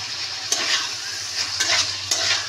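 Steady loud sizzling of vegetables and potatoes frying fills the clip, with a few scraping stirs of a spatula across the pan.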